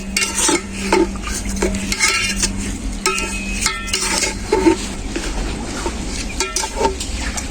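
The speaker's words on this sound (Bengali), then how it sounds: "চাল, ডাল আর মশলা খুব ভালো করে একসাথে কষিয়ে নেব।" Rice, lentils and spices for khichuri stir-fried in a pot, with a low sizzle under repeated scraping and clinking of a spoon against the metal, continuous and close.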